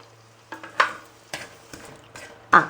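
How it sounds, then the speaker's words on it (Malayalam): Chilli, coriander, fenugreek and turmeric powders fry in a pan for a coconut-pepper fish curry, stirred with a spoon in soft, intermittent scraping strokes over a quiet, faint sizzle. "മുളക് പൊടി, മല്ലിപ്പൊടി, ഉലുവാപ്പൊടി, മഞ്ഞപ്പൊടി എല്ലാം കൂടെ ഒന്ന് മൂത്ത് വരട്ടെ."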